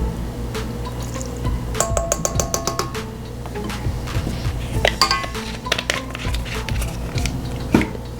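Lemon stirred into sugar cookie mix in a bowl, with close irregular clinks, scrapes and taps of a utensil against the bowl and no talk.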